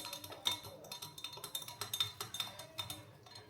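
A spoon stirs and mixes food in a dish, giving a quick, irregular run of small clinks and scrapes against the bowl at close range, steady throughout with no talking.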